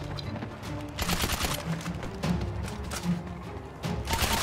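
Gunfire in a GTA roleplay video game crackles in repeated rapid bursts, several volleys of loud shots spread across the moment with brief gaps between them.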